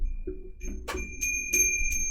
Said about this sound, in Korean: 제 목소리를 뚫고 나오는 풍경 소리 들립니까?